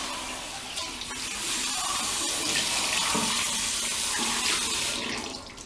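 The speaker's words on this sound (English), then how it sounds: "Wash your hand with the water." Running tap water splashes steadily over hands at a sink, a continuous close broadband rush that swells slightly in the middle, with no talking.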